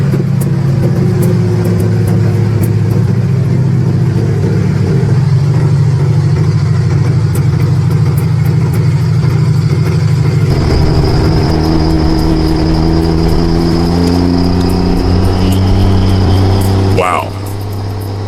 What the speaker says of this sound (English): Listen to that old Sherman